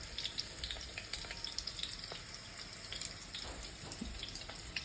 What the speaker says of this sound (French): Là, nous sommes en train de préparer le rôti de pistache.